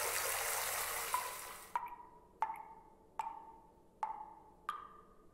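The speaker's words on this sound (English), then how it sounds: "so we will keep that faucet going" Faucet water running in the horror video game Stifled: a steady gush that cuts off abruptly, followed by a series of sharp ticking clicks at even intervals, each ringing out briefly.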